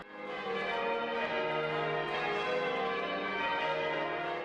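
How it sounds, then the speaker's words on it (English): Church bells rung by a visiting bell-ringing group from England and Australia peal in a dense, continuous wash of overlapping metallic tones, steady and loud throughout with no talk. "you're trying to put your bell in the right place amongst all the others"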